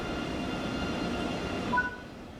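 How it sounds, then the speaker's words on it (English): A train pulls in within Train Sim World 3 on the Kassel to Würzburg line, a steady close rumble of rolling stock with a brief high wheel squeal near the end before the noise eases. "Oh, your train has arrived."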